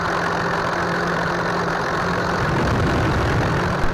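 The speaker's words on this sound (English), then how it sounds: "You're listening to the simulated sound of a Warbird engine inside an electric RC plane" A speaker unit inside an electric RC plane plays a simulated P-51 warbird piston engine, a loud, steady, rough rumbling drone that deepens and grows coarser toward the end, heard alone without any voices.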